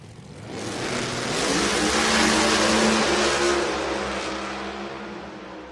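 Nitro-free Pro Modified drag racing cars roar down the strip in the final round at an NHRA national event in Norwalk, a loud sustained engine blast that swells and fades as they pass.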